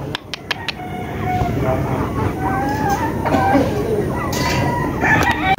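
Several roosters crow loudly one after another, with a few sharp clicks at the start and a background murmur.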